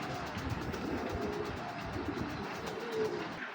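Tournament racing pigeons give low, muffled coos amid a dense, steady background murmur.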